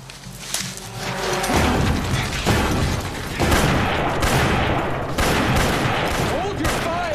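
Gunfire from a World War II action movie: dense bursts of rifle and machine-gun shots with booms, loud and continuous, with shouting voices mixed in.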